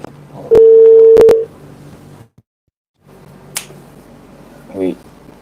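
Telephone being dialed to place a call: a steady tone and sharp clicks of keypresses, loud and close, followed by a brief silence, then faint room noise.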